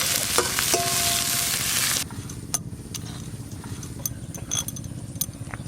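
Chopped onion hits hot white oil and sizzles loudly for about two seconds, then settles into a quieter, steady crackle with occasional sharp pops and stirring clinks.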